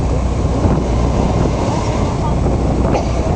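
Broad rushing roar of surging sea water and wind through a blowhole in a sea cave at Fernando de Noronha, steady and loud, with a deeper whooshing swell near the end as waves push through the enclosed space.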